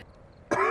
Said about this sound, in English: If my body makes me cough, I can't do nothing about that.